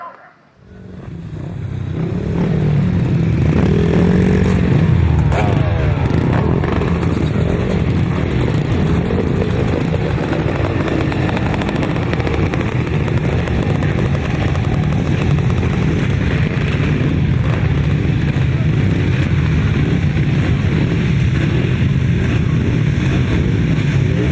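A pack of 250cc solo grasstrack motorcycles at a grass circuit race produces a loud, sustained engine roar that rises within the first two seconds and holds steady and close throughout.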